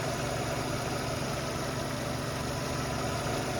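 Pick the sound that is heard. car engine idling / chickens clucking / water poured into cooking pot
car engine idling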